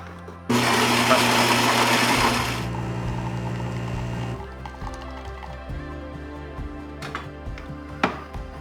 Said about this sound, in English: I will select espresso.